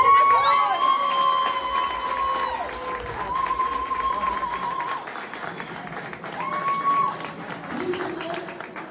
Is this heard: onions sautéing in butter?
no